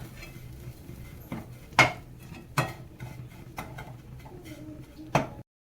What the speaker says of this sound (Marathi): शेवया मस्त परतून घ्यायचं तेलामध्ये.